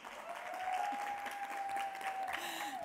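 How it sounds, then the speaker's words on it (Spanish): An audience at a LIFE conference applauds to welcome speaker Gina Molinares, a fairly faint but continuous patter of many hands, with a steady tone ringing faintly beneath it. "Por favor, con un aplauso, Gina."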